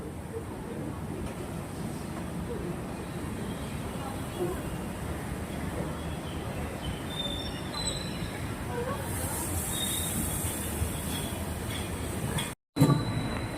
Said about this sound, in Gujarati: તો મિત્રો આપણી ટ્રેન આવી જઈ છે મેટ્રો એમાં બેસી જઈએ